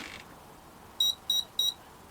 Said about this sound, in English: Beeps 3 times and then goes bip.